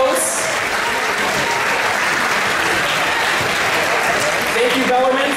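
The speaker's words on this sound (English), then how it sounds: "I'd like to round it out with one final round of applause, please, for all of the volunteers," Audience at an FTC robotics regional qualifier applauds volunteers and hosts with dense, loud, steady clapping that fills the room throughout, with a voice emerging faintly toward the end.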